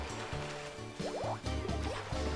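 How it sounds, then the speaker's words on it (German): Mario touches water in Super Mario Galaxy 2, giving bubbly, gurgling drips and splashy squishes over a steady game music bed. "Eine Berührung mit Wasser."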